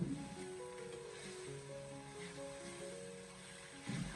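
Choy sum stir-fried at high heat in a wok after a seasoning sauce is poured in, giving a steady close sizzle and hiss under a low hum, with a brief louder clatter near the end.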